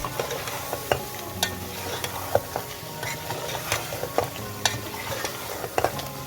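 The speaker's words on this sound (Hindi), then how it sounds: "अब इसके साथ हम तकरीबन 1 मिनट तक भूनेंगे ताकि मसाला जो है चिकन में अच्छी तरह से रच बच जाए" Chicken frying in a pan with nihari masala and Kashmiri red chilli, stirred steadily so a spoon scrapes and taps against the pan over a constant close sizzle, with no voices.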